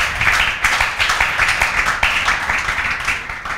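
A classroom bursts into applause for a student during an algebra lecture, a crowd of hands clapping loudly and rapidly in a dense, continuous patter for several seconds.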